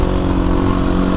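A Fantic Caballero 500 Rally motorcycle pulls away, its engine a steady, loud, close drone with a throbbing low rumble and no clear rise in revs across the short stretch.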